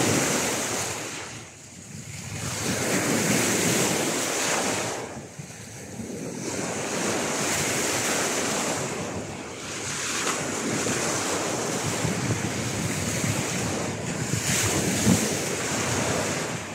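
Strong wind roars and buffets continuously, mixed with waves washing in, swelling and easing every few seconds with no voices.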